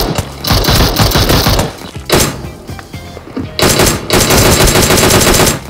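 PUBG Mobile gunfire rattles off in loud, rapid automatic bursts, with a brief pause between volleys before another sustained burst of shots close up.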